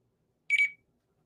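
A short electronic beep from a small device, one bright tonal burst lasting about a quarter second in an otherwise silent moment.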